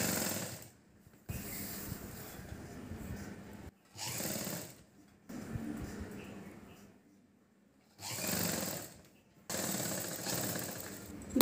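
Domestic sewing machine stitching a folded double hem along the edge of fabric for a fancy umbrella-style chudidar top, running in several loud bursts separated by short pauses, with no talking.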